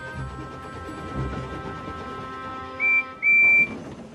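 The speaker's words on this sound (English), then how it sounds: "When Emily whistled hello, the engines didn't whistle back" A steam engine whistle from a Thomas-style train story sounds in two clear, loud, high blasts, a short one and then a longer one, following soft background music.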